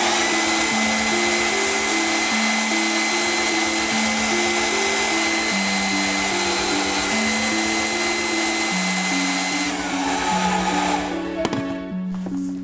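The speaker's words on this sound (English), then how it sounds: "Now for this step, grab your hair dryer." A hair dryer blows steadily and loudly while heating the tail of a Granamyr Masters of the Universe Classics toy figure, a continuous whirring drone with a few clicks near the end.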